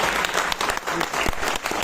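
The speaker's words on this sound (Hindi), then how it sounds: "एक बार अपनी उपस्थिति के लिए आप लोग तालियां बजा दें अपने सम्मान में" A crowded auditorium audience at the IIT Kanpur Gatha Mahotsav breaks into thick, continuous applause, a loud wash of many hands clapping with no pause from start to finish.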